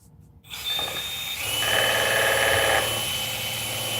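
Power drill whirring steadily as it pre-mixes epoxy resin in a workshop, a continuous close mechanical drone that starts abruptly after a brief quiet moment and holds for several seconds.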